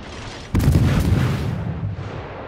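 The Z-23 destroyer in World of Warships fires HE shells in a burst of heavy, booming gun reports that land close together over a steady background rumble, then fade into a lingering low roar.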